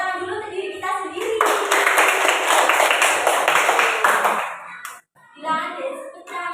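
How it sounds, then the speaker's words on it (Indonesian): A classroom of students clap for themselves in a short burst of about three seconds, fairly close, with children's chatter before and after the clapping. "Kita beri tepuk tangan dulu ke diri kita sendiri."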